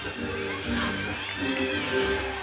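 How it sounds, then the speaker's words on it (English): Teammates cheer and whoop for a gymnast during a college meet as a crowd keeps up a steady, lively roar that swells in bursts across the arena. "You can see her teammates cheering Mick on."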